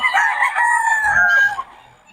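A rooster crows once, loud and close, at a cockfight arena in Bocaue, the call holding steady for about a second and a half before it trails off.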